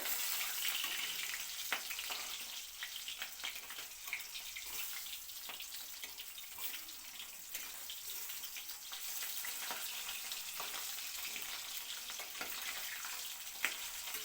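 Boal fish pieces sizzle steadily in hot oil while being turned, a constant close hiss broken by occasional sharp pops and scraping clicks, with no voices.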